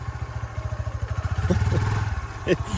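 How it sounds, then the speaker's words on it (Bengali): A motorcycle stuck in forest mud revs in short, pulsing bursts that rise and fall. A voice talks over the close engine. "পুরা আটকে গেছে আমার বাইকটি আটকিয়ে গেছে"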